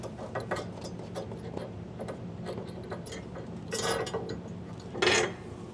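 A wrench ratchets out large bolts on a B&W Turnoverball underbed gooseneck trailer hitch under a 2023 Ford truck, giving rapid, close mechanical clicks with two louder metallic scrapes near the end.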